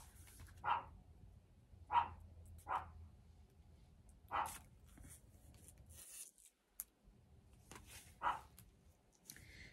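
A dog barks a handful of times in the distance, single sharp barks spaced a second or two apart over a faint low hum.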